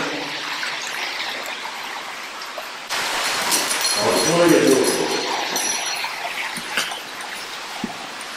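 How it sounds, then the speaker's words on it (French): Rushing river water flows in a broad, steady wash at close range, swelling louder midway through, with footsteps and movement along the bank and occasional voices. "Alors on s'est rapproché de la rivière."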